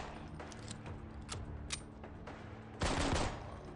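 Video game gunfire sounds in quick bursts of sharp shots, faint and scattered at first, then a louder, denser burst of fire late in the clip.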